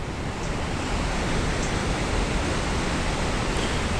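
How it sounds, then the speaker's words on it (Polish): Water at Iguazu Falls rushes toward the drop in a dense, steady roar that fills the whole clip without a break, with no voices over it. "A tutaj jest woda, która zaraz spadnie z tego wodospadu."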